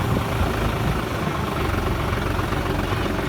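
Steady low engine idle of a 2022 TMR TT Classic tractor, a dense continuous rumble with a faint mechanical vibration, close and even in level throughout with no voices.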